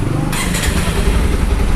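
A Bajaj Pulsar 150 BS6 motorcycle with a check-engine light fault runs loudly up close, a steady engine drone with a brief clattering burst near the start.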